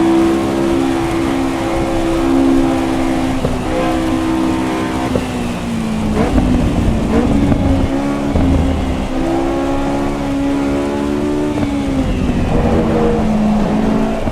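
Race car engine in the Assetto Corsa Evo racing game, a steady loud drone with engine notes that rise and fall as the throttle is eased off and reapplied, no talking.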